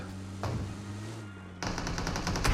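Automatic gunfire in the mobile battle royale game PUBG Mobile, a rapid stream of close, sharp shots that starts after a quieter moment and keeps rattling steadily to the end, with a brief burst earlier on.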